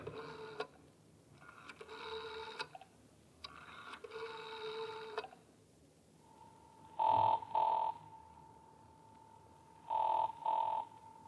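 Old-fashioned telephone bell ringing in a 1950s radio crime drama, two double bursts of ringing separated by pauses, followed by two shorter electronic-sounding double rings over a steady tone.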